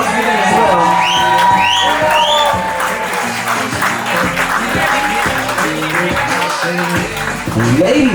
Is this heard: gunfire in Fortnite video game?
no